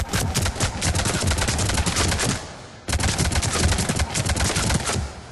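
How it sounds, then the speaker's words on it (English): Avenger assault rifle from Mass Effect 3 fired full auto at point-blank range: two long rapid bursts of dense, loud gunfire separated by a short pause, with no talking. "So let's start out at point-blank range using the Avenger."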